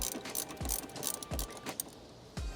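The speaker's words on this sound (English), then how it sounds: "We have a ratchet with a 10mm socket on it. We'll go ahead and disconnect the negative terminal here on the battery." Quiet, close ratchet clicks come from a ratchet with a 10mm socket loosening the negative battery terminal on a Tacoma, several short ratcheting bursts separated by pauses, with no talk.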